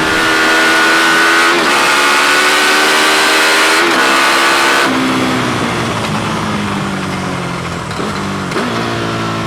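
A KTM Super Duke 1290 R motorcycle revs hard and accelerates at close range, its loud engine note sweeping upward through the rev range, dropping at a shift, then climbing again with constant wind noise.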